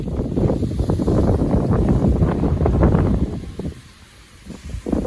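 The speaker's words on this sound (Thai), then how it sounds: "อย่าถามหาหมอกครับลมโคตรแรงครับ" Strong wind at Phu Thap Boek in Phetchabun, Thailand, blows through an early-morning campsite, roaring and buffeting loudly against the microphone, easing briefly near the end before gusting again.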